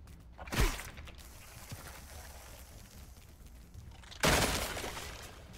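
Cracked glass shattering in the Grounded video game, two sharp breaking crashes a few seconds apart, the second louder and followed by a trailing scatter of fragments.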